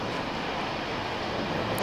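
Steady broadband rumble of a train rolling along, loud and continuous, with no voices over it.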